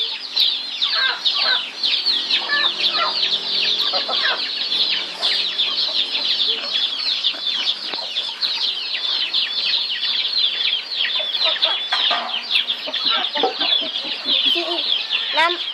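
A crowd of chickens clucks and squawks continuously and busily nearby, a constant overlapping chatter of many birds.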